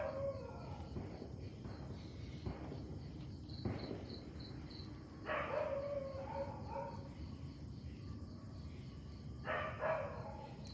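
A dog barks and howls outdoors in several separate bursts spread over roughly ten seconds, moderately distant, over a steady background chorus of crickets, with no one speaking.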